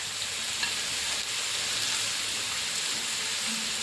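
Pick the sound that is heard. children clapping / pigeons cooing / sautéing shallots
sautéing shallots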